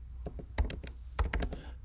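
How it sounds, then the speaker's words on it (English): Quick bursts of typing on a computer keyboard, close and crisp, as a web address is entered in short clusters of key taps. "So we're going to go up there and type it in for the very first time."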